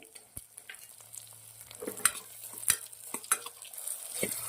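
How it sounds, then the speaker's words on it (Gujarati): Green peas tossed into sautéed onions sizzle in a pan for khichdi, a close crackling fry with sharp spatula taps and scrapes at irregular intervals over a faint low hum, no talking. "ડુંગળી થોડી સંતરાઈ ગઈ છે તો આપણે વટાણા નાખીશું"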